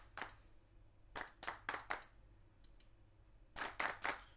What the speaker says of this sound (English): this is now doing a large clap